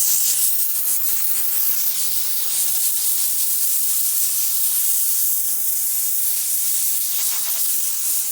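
A VX5000 steamer blasts a steady, loud hiss of steam onto a car mat, continuous and unbroken for the whole stretch with no voices.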